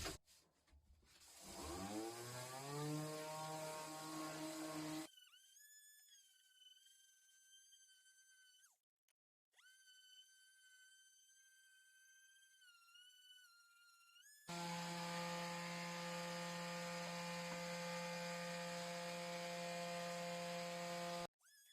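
Power sander whining over wooden TV stand shelves, a loud steady motor drone that spins up, changes pitch midway, drops out briefly, then returns at a steady higher level.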